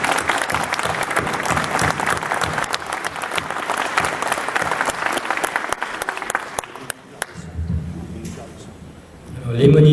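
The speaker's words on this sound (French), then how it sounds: "je vous remercie de les applaudir encore une fois" A room full of people at a mayor's New Year greetings event in Bolbec applauds steadily for several seconds, the clapping dying out into scattered claps before a voice starts talking.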